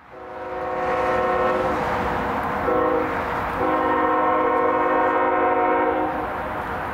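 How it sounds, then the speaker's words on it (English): Union Pacific freight train approaching through downtown Austin, its horn blaring in long loud blasts with a short break, over a low rolling rumble of the train. "By now, another train was approaching downtown Austin,"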